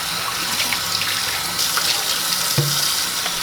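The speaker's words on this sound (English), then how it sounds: "I'm just giving it a little rinse so y'all can" A part from a Mueller Juice Max Pro cold press juicer is rinsed under a running tap, giving a continuous close hissing splash of water with small spattering changes as the part is turned in the stream.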